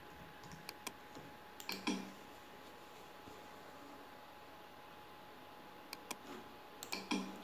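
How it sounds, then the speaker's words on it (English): Typing an email and password on a computer keyboard: a few sparse, quiet clicks and short bursts of keystrokes against a steady faint hiss, with no talking. "Then type your client email and password."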